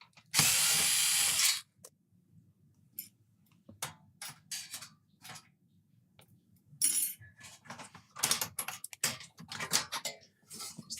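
Screws being backed out while opening up an Amiga 500 computer case, heard as a long loud burst of driver whirring followed by scattered short ratcheting clicks and scrapes at close range, no talking.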